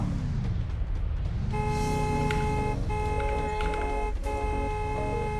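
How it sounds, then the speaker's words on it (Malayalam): A car horn honking in the Free Fire video game, sounding as repeated loud toots over a steady engine rumble, starting partway in and continuing in short bursts to the end. "ഇത് ഏതവനാടാ ഹോൺ അടിച്ചുകൊണ്ടിരിക്കണേ"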